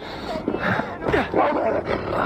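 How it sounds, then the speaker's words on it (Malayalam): A dog and a wolf, summoned companions in the video game Assassin's Creed Valhalla, bark and yip loudly in quick bursts amid combat noise, with a voice talking over part of it. "ഇത് എന്റെ പട്ടികൾ, പട്ടിയല്ല ഒരു പട്ടിയും ഒരു വുൾഫും"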